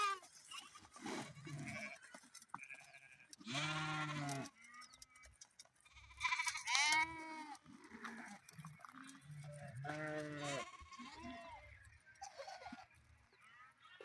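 Sheep bleat repeatedly at close range among a grazing herd, with overlapping cries rising and falling across the scene.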